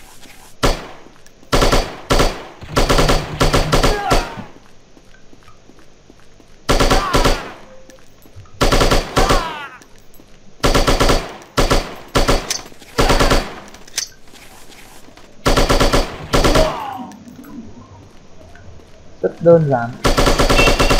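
Rapid machine-gun bursts from the shooting game Striker fire in repeated loud clusters separated by short pauses, with a brief voice speaking once between volleys.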